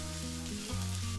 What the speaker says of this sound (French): Faire ruisseler l'ail et le gingembre une dizaine de secondes